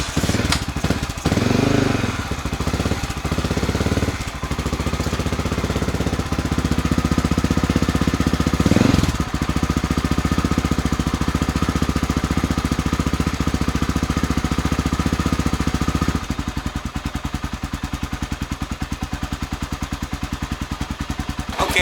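A Honda XR600R dirt bike with an aftermarket muffler idles close by with a loud, rapid, popping exhaust rumble that runs continuously, briefly revving before settling into a choppier idle.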